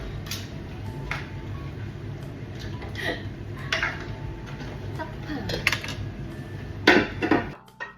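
Metal utensil clinks and scrapes against a pot of boiling tinola in irregular bursts, fairly close, with brief light knocks and background hum.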